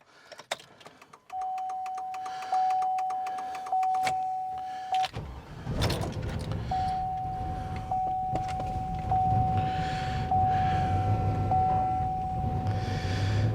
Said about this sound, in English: we put it back in the vehicle and make sure the vehicle starts